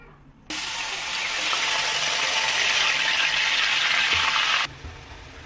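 Half-ground onion paste drops into a hot kadai of oil for biryani, bursting into a loud, steady sizzle that holds for about four seconds before cutting off.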